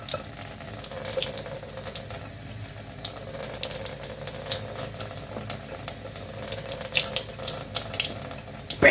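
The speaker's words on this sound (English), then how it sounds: "So you can see the tap, it's just flowing straight down." Water runs steadily from a tap into a sink, a continuous soft splashing hiss lasting throughout at moderate level, with no talking.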